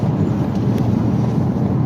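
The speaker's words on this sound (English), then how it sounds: "Now it's real windy." Strong wind blows at a Lake Erie shoreline during a seiche, a steady, loud, low buffeting roar of wind against the microphone, with no talk.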